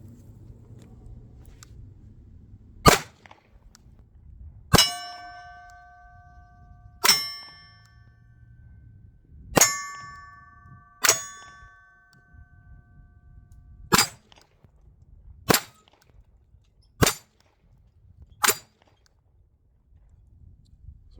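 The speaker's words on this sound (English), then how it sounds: "we took some initial shots" Canik TP9DA 9mm pistol fired with 115-grain 9mm Luger ammunition at an outdoor range: nine sharp, loud single shots spaced a few seconds apart, several leaving a brief metallic ring.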